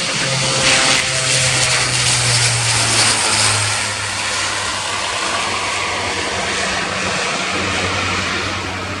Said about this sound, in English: On the roll, it's the Airbus